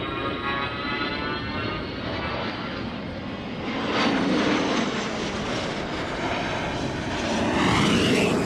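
An A-10 attack jet makes a practice attack run at the NAS Oceana air show. Its steady engine roar swells twice as it passes, loud and sustained, with no voices.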